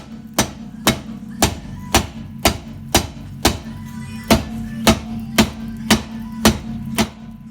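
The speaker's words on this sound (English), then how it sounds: "Use a rubber mallet so that you don't damage these studs if you miss swing." A rubber mallet strikes a car's drum brake between the wheel studs, about a dozen sharp, loud knocks in an even, steady rhythm, close by and alone.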